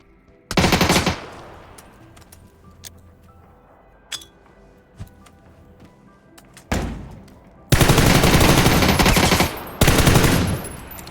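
Gunfire in PUBG: Battlegrounds during a duo match, with loud bursts of automatic fire at the start and again near the end, separated by quieter stretches holding a few isolated shots and clinks.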